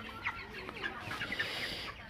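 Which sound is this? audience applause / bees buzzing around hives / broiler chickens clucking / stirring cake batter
broiler chickens clucking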